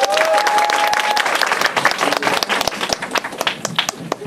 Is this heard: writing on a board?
no